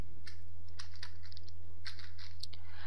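Quick clattering keystrokes on a computer keyboard while C++ code is being written, an uneven run of close taps over a steady low electrical hum.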